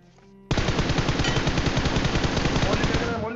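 Rapid automatic gunfire in a mobile battle royale game, a sudden loud burst that continues as a dense, fast stream of shots for about three seconds.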